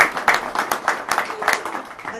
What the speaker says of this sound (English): if we'll give him a clap